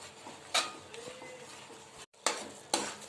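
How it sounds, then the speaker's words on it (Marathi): Melting jaggery syrup for puffed rice ladoo stirred in a pan, with soft bubbling and sizzle broken by several sharp scrapes and clinks of the spoon against the pan, close and intermittent. "आपला गूळ छान विरगळून गेला आहे अजून दोन तीन मिनटं आपण असंच हलवत राहायचं आहे"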